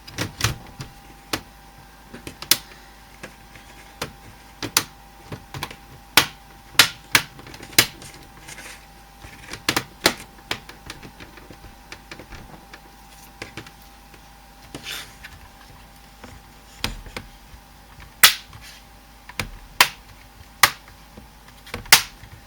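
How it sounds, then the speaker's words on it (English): Plastic palm rest of an HP 15-R132wm laptop being pressed back into place, giving a series of sharp, close clicks and snaps spread irregularly across the stretch, some louder than others, with no talking. "now we can go and set the palm rest back into place."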